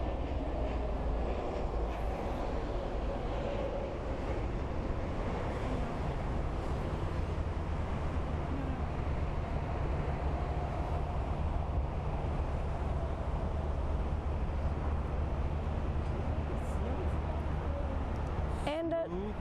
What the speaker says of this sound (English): a pretty good landing of an Airbus A321-231NX